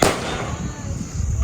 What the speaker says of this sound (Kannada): ಪಕ್ಕದ ಮನೆ ಎದುರುಗಡೆ ಮನೆಯವ್ರು ಪಟಾಕಿ ಹೊಡಿತಾ ಇದ್ದಾರೆ